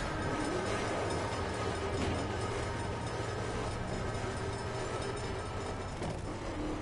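A train rumbles steadily past in the racing video game The Crew, a continuous low rolling roar with faint rail clatter, fairly quiet and with no voices.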